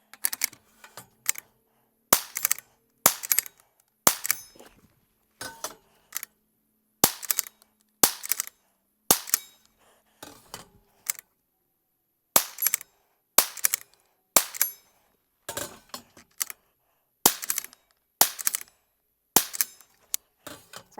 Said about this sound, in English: You hear the shots.